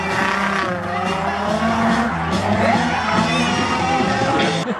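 Infiniti G35 pro-am drift car sliding through a transition on a track, its engine roaring at high revs with rising and falling pitch, loud and continuous, with tire noise and crowd whoops mixed in.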